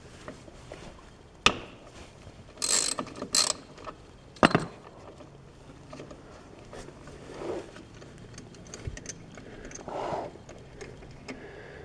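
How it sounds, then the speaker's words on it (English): A 14 mm wrench loosening the oil drain plug on a Polaris Sportsman ATV, a few brief metallic clicks and ratcheting scrapes spaced out over quiet background. "using a 14 mil, we'll remove the drain plug at the bottom of the oil reservoir here"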